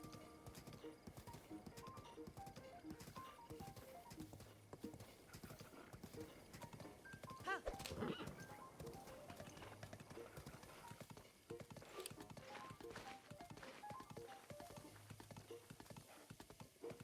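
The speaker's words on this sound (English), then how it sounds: "This is a terrible horse, and I'm glad I'm giving it away." Horse hooves clip-clop steadily in Breath of the Wild, a continuous rhythmic trot at moderate volume with occasional whinnies and game ambience layered over the full stretch.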